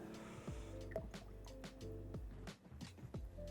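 Fluid is poured into a KYB rear shock body, with a soft glugging, dripping trickle and faint squishy gurgles repeating close up, fairly quiet and without talk.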